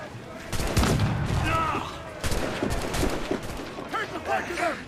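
Ship cannons blasting at an enemy vessel in Assassin's Creed 4 Black Flag, loud booming volleys in quick succession with a rumbling tail, pausing briefly before another burst of fire.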